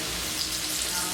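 Frozen okra frying in a pan, a steady broadband sizzle holding evenly throughout with no break, close and continuous, no voices over it.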